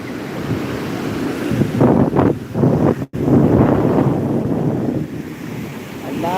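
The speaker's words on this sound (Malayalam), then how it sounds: "ഇവിടുത്തെ തിരമാലയാണ് അതാണ് ആരും കടലിലോട്ട് ഇറങ്ങാത്തത്" Sea waves breaking on a beach at Vettukad, a continuous roaring wash of surf with rising swells, loud and close, with heavy wind buffeting the microphone and no talk.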